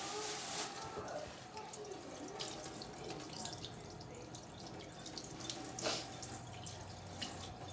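Kitchen tap running into a sink while food is rinsed front and back, a soft continuous splash and trickle with occasional louder spurts, close but fairly quiet.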